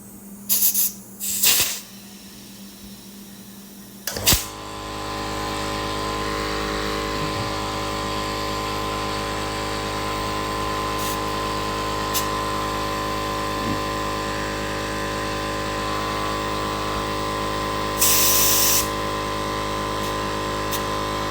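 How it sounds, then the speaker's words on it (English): A 5-gallon steel tank air compressor starts up after a few clicks and handling noises, then drones steadily and loudly with a constant motor hum while inflating tires, with a brief hiss near the end. "I'm going to go ahead and air up my tires and use a tire gauge"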